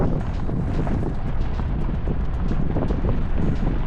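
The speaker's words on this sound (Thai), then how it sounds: "เนี้ยลมเนี้ยลมพัดฟู่ฟู่" Strong wind blows in Suphan Buri, Thailand, producing a loud, continuous roar and buffeting against the microphone without any break.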